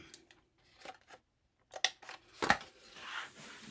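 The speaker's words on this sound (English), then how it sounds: "I just want to trim this down, and this one as well." Scissors trimming cardstock pieces for a flat-fold treat box: several crisp, separate snips close by, quiet pauses between them, with no one speaking.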